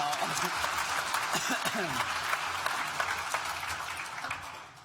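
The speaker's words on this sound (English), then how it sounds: "Oh, go on, look, another clap." A graduation ceremony crowd breaks into a fresh round of clapping, a broad, fairly loud patter of many hands that fades toward the end while a speaker's voice talks over it.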